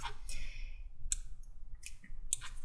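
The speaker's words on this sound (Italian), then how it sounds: "Mi avvicino un attimo spingendo CTRL più sulla" Keys on a computer keyboard are pressed, the Ctrl and plus combination, giving a few light, crisp clicks spaced apart over low background hum, close by, with no speech.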